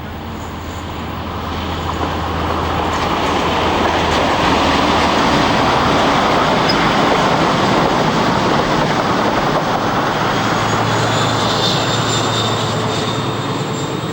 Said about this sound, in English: the 100 or so train sets are to be found tirelessly pounding up and down the network at 3-figure speeds where the track permits